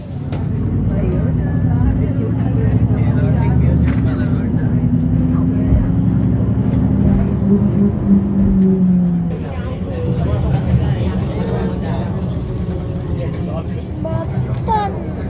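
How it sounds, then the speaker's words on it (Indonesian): Interior rumble of a city bus leaving Amsterdam Central station, a steady low engine drone throughout with a shift in tone partway, while a voice talks over it. "Kita nyambung naik bus dari stasiun Amsterdam Central."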